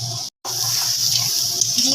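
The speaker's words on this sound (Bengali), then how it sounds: "দিয়ে দেওয়া হলো একটু জল।" Water poured into a cooking pan with spices for a bhetki fish curry, a steady hissing splash that continues after a brief gap.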